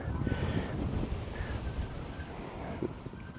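Gusty morning wind buffeting the microphone outdoors during plowing and seedbed preparation, a low rumbling roar that rises and falls throughout.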